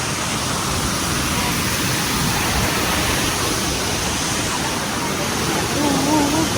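Steady roar of the Vattayi waterfall at Wadakkanchery, water rushing and flowing loudly and continuously from start to finish, a broad constant wash with faint voices just audible beneath.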